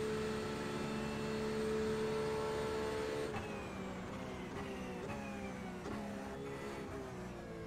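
Race car engine in a racing video game as a car exits the pits, a steady droning whine with rising and falling pitch sweeps from gear changes, moderately loud and continuous.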